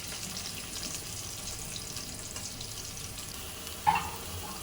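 Thinly sliced onions fry in oil for fish biryani, giving a steady, fairly quiet sizzle throughout, with one brief clink near the end.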